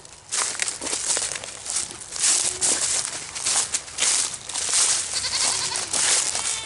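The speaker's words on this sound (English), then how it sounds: "That's hilarious. Those silly goats." Goats on a farm bleat repeatedly in a noisy outdoor setting, the calls rising and falling over broadband rustling and crinkling with some footsteps, moderately close and without talk.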